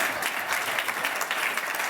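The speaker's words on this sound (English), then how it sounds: "Let's applaud my boss." An audience at an annual dinner forum in Louisville applauds their host's boss, a dense, lively burst of clapping filling the room at close range with no voices on top.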